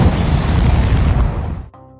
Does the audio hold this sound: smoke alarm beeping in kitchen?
no